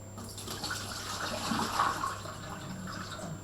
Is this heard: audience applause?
no